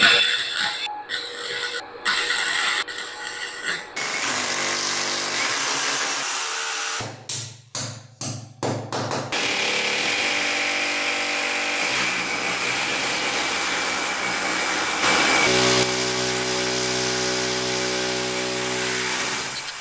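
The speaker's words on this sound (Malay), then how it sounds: "Rotary hammer yang saya guna untuk pasang grill adalah rotary hammer needs 20 watt dengan motor brushless." A NIETZ cordless brushless rotary hammer drills holes for window grill brackets, with loud sustained whining and rattling runs broken by brief stops and restarts, close up, with no talk over it.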